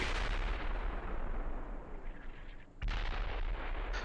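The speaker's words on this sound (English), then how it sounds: "Mortars falling around mech company now" Mortar shells falling in the tank simulator Steel Beasts Pro, a dense rumbling barrage of low booms that eases briefly, then a sharp fresh impact near the end.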